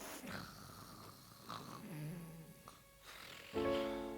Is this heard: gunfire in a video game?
no